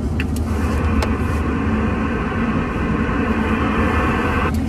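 Car rolling slowly at about 20–30 km/h, a steady close engine and road drone with continuous low rumble and no speech.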